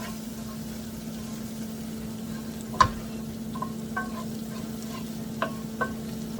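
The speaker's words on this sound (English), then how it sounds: "I'm just gonna let the spices kind of toast, and yeah, just let it toast a little bit." Spices toasting in a pan for garlic scallop pasta, giving a steady, low sizzle with a few light clicks of a utensil against the pan, close and with no talking.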